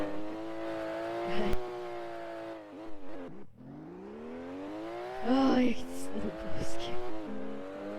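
Roblox car engine drones with a steady rising and falling pitch in the game, revving up and down through shifts with brief bumps and squeals, while a voice talks over it.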